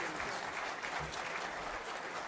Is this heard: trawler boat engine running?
no